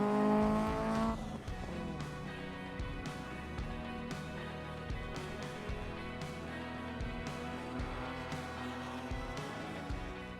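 Improved Production race cars at Sydney Motorsport Park roar along the main straight, an engine note climbing through repeated gear changes with sharp shifts, fairly loud and continuous with no talk.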